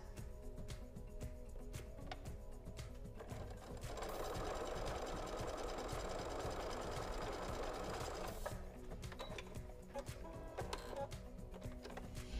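A sewing machine chain-pieces quilt pieces for a Christmas project, running in a steady close mechanical hum with a denser stitching stretch in the middle before easing back.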